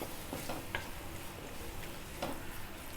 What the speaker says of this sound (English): We just need to saute this for a minute